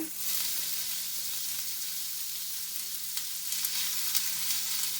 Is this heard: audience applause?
no